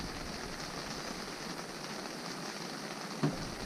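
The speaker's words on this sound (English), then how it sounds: "so it is still raining, and as you can hear" Steady rain falling outside a truck camp on a spring trip, a soft even wash of drops on surfaces with one brief louder tap near the end, no voices.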